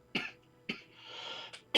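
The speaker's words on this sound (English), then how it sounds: "Sorry, I have a terrible cough at the moment." Several harsh coughs come in a short, uneven series, close and clear over quiet background, with a brief hiss between them.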